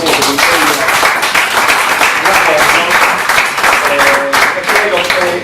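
Sustained applause from an audience at a public meeting on the Eleonora project in Serramanna, Sardinia, dense steady clapping throughout, loud and close.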